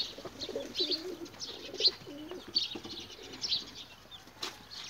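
Pigeons with newly hatched chicks coo in repeated low, throaty phrases, close and fairly soft, with scattered chirps and brief wing flaps over faint background noise.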